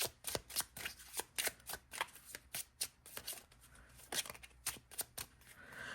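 Overhand shuffling of a Lenormand card deck, a quick run of crisp, papery riffling bursts in an irregular rhythm, close and fairly quiet with no talking.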